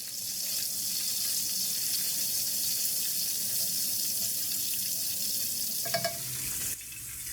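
Whole spices such as black cardamom, nutmeg, mace, cumin and dried flower buds fry lightly in a pan for pulao, giving a steady close sizzle, then brief clinks and a shift as the texture changes near the end.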